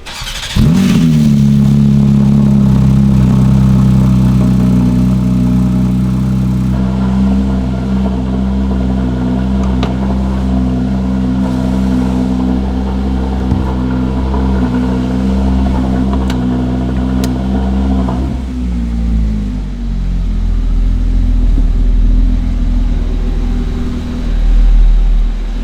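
A Porsche 992 GT3 engine drones steadily from inside the car while driving in Monaco, a loud low hum that holds for most of the stretch and then eases near the end.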